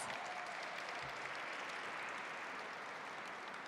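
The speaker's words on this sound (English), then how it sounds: "Another big round of applause." A crowd at a Lunar New Year celebration applauds, a soft, even patter of many hands heard from a distance, continuous and without talk.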